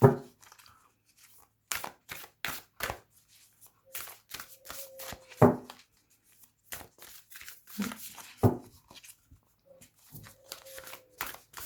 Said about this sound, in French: On va les mélanger, puis je vais vous tirer une petite carte. Ça se mélange très bien.